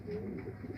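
Feeke Baajre pigeons cooing on a rooftop, a short, soft run of low murmuring coos that sit steady and close without any talk.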